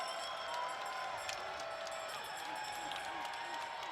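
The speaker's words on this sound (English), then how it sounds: "Maine ignites this capacity crowd into a frenzy" Capacity crowd in a college hockey arena roaring after Maine's tying goal in the UMass game, a sustained loud cheer with whoops and clapping while a commentator talks over it.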